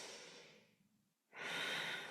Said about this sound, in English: we're going to hold this posture with a long, slow, deep breath. Breathing deep.